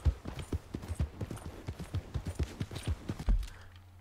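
A horse's hooves clip-clop in a steady trotting rhythm in Red Dead Redemption 2, close and regular for several seconds before stopping.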